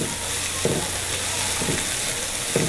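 Finely chopped collard greens, stalks included, stirred in a hot frying pan: a continuous loud sizzle with three rhythmic scraping sweeps of the utensil, no talking.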